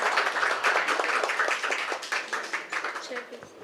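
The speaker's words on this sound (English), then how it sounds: "round of applause" Small audience clapping at an intern farewell ceremony, a lively round of close handclaps that thins out toward the end.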